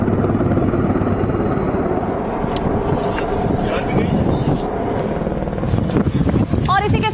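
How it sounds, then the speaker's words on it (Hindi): Helicopter flying over an army search operation for hidden militants, a loud continuous rotor roar with wind buffeting, steady throughout, with occasional faint sounds in the background. "हेलीकॉप्टर से सर्च ऑपरेशन किया जा रहा है"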